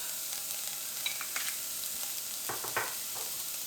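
Food frying in a pan with a splash of soy milk added, a steady close sizzle running throughout with a few brief louder crackles and stirring scrapes near the end.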